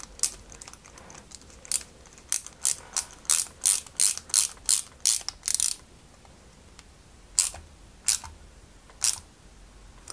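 A screw is driven into the plate of a 1/8-scale Ferrari 330 P4 model car with a hand screwdriver, making a series of sharp ratcheting clicks in quick bursts, then a pause and a few spaced clicks, close and clear.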